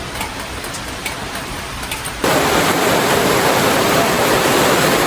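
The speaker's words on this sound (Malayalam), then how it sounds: "പെരും മഴ എന്ന് പറഞ്ഞാൽ പെരും മഴയാണ്" Heavy rain pours down on a house where the roof is leaking, a steady broadband hiss that suddenly surges much louder and denser partway through and then holds as a roaring downpour.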